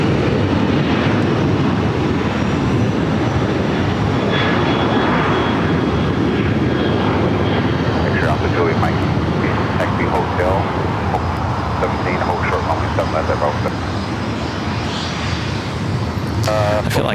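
A jet aircraft taking off from runway 7 left at LAX airport in calm air, a loud, steady roar close by and sustained throughout, with faint distant sounds over it.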